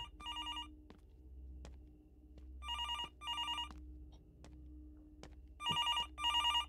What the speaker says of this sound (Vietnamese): Có người gọi có người gọi